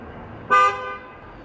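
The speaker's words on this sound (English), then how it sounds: "I don't think that honk was necessarily warranted." A single short car horn toot, sharp and fairly close, sounds over quiet street background on Gerrard Street, Toronto.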